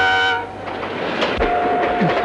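A train rolls past in a Kannada action film scene, with a loud mechanical rumble and broadband rush building through the clip; tonal horn-like lines appear at the start and again midway.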